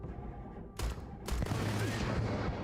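Enemy gunfire in Starfield erupts in two loud, dense bursts of rapid shots that continue as a sustained volley, with a low rumble beneath and no talking.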